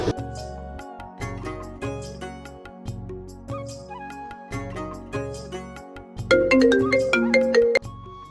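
A phone ringtone loops a catchy electronic melody over a pulsing beat, repeating several times and swelling louder toward the end.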